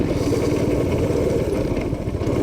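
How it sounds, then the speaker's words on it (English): A cheap go-kart engine running on old gasoline outdoors in winter, a loud, close, steady mid-pitched buzzing drone with a fast rhythmic putter and no voices over it. "I can't believe the engine runs this well."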